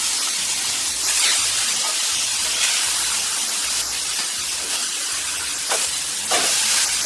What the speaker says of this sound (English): just prop them up against the side to get a sear on the fat